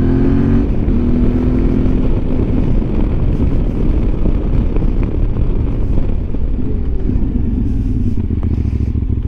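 A QJMotor SRT 600 Touring 2025 motorcycle engine drones loud and steady while riding, with a constant low growl, wind roar and slight pitch shifts, close and continuous with no talk.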